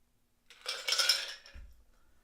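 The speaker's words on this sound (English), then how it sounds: "You'll take a strainer and then pour the concoction into your coupe glass like that." A Manhattan cocktail strained into a coupe glass: a brief, quiet hissing pour of liquid lasting about a second, followed by a soft low knock, in an otherwise silent room.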